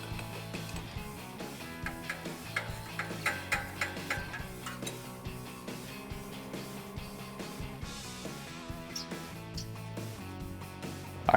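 A ratchet with a 15 mm socket works loose the tailpipe-to-muffler bolts on a 2009-2018 RAM 1500 5.7L, giving a quiet, steady run of rhythmic clicks over a tonal background.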